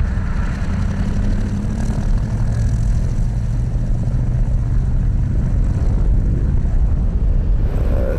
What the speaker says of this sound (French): C'est un avion qui a un bruit, qui a une musique, qui a une âme.